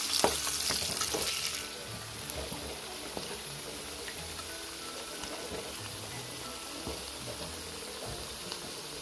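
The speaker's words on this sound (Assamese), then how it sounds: "এতিয়া মই আলুখিনি অলপ ফ্ৰাই কৰিব লৈছোঁ আৰু একেখিনি তেলতে মই আলুখিনি অলপ ৰঙামুৱাকৈ ফ্ৰাই কৰিম।" Potatoes frying in oil in a pan for a chicken curry, a soft continuous sizzle with light crackles and a few stirring clicks, close and moderately quiet, with no talk.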